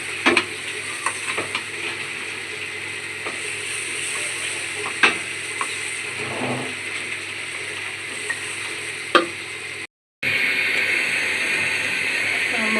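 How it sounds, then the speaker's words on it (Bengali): Chicken pieces sizzle steadily in a hot pan for chicken bhuna, with sharp scrapes and clacks of a spoon stirring at intervals, close up and continuous, broken by a brief cut near the end. "মুরগির সুন্দর করে ভাজতে আছে"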